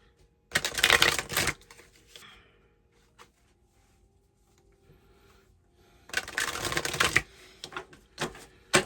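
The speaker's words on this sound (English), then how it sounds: "I just saw the Star as I was shuffling" Tarot cards from an Ethereal Visions Tarot deck being shuffled and split, with two loud bursts of riffling some seconds apart and quiet handling between them.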